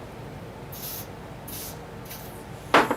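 Three short hissing bursts from a WD-40 spray can, evenly spaced, followed by a sharp louder clatter at the end.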